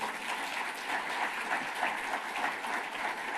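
Steady applause from a room full of people, continuous clapping at an even level throughout with no talking.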